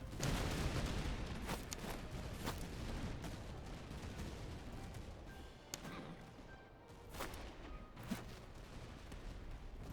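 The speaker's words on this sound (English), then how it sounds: "Go ahead and open fire." Gunfire in the video game Master of Command, a quiet, distant battlefield of scattered rifle shots and cracks over a continuous rumbling bed, with a few sharper reports standing out.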